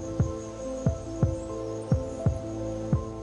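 A slow, steady heartbeat of a hummingbird in torpor thumps about every half second or so, six soft low pulses over a constant hum, with no speech.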